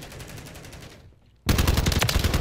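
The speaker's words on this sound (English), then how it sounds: "this weapon's a great weapon. It is a top-tier assault rifle" Rapid automatic fire from a TR76 Geist assault rifle in a shooter video game, one loud burst of dense repeated shots, then a short quiet pause, then a louder second burst.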